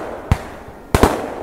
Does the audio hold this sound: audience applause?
no